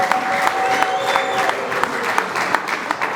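A church congregation at a Baptist gathering in Rwanda claps steadily in dense, continuous applause, with occasional sharper claps standing out and faint voices underneath.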